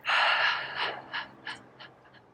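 A forceful exhale through the open mouth during a qigong exercise, one long loud breathy rush up close, followed by several shorter fading puffs of breath.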